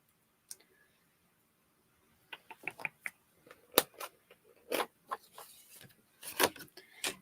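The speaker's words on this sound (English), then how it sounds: "Now I need to cut out my flowers" Scissors snip paper flowers for a craft project, quiet irregular clicks and short crisp cuts in clusters, close and faint with near-silent gaps between.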